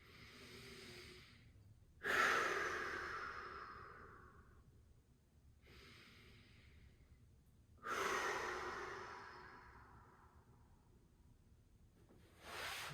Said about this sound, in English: Couple breaths.